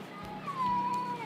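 A caged cat gives one plaintive, drawn-out meow that slides in pitch, fairly faint and close against quiet background noise.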